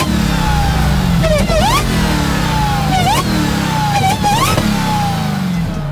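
Dodge Challenger SRT Demon 170 with its Hemi-based engine accelerates hard, loud and close, with quick rising revs broken by three sharp upshifts and no talk.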